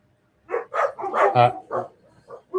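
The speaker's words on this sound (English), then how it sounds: "There goes my dogs want to go out. They'll get them barking away." Dogs barking and yipping in a short burst of several quick barks at moderate distance, with a whimpering edge, alone in a quiet room.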